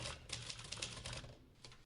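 Typewriter keys clatter in rapid, uneven bursts of crisp clicks, close and fairly quiet, continuing steadily with a brief pause near the end and no one speaking.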